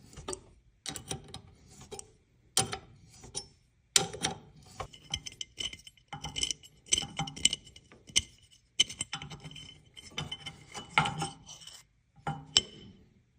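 Intermittent metallic clicks, scrapes and ticks as a tap cuts threads through the metal of a Weber IDF carburetor, coming in short irregular bursts with brief pauses between.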